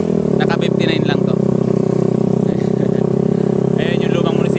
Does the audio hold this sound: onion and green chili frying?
no